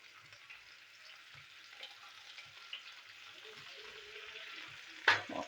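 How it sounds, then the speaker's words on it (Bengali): Papaya pieces with turmeric frying in oil, a steady soft sizzle throughout with a few faint low knocks, then a sharper stir or utensil scrape near the end. "পেঁপেটা একটু ভাজতে হবে।"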